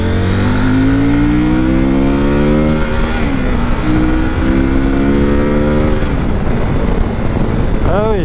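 A 2025 CF Moto 800 MT motorcycle engine revving up through the gears, pitch climbing repeatedly with shifts, loud and close, with a rider's voice mixed in.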